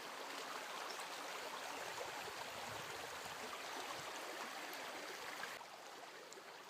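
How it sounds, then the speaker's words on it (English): Clear river water rushes in a steady, even wash of broadband noise on a warm day in the woods, fairly faint and continuous throughout. "Getting a little dip in the river."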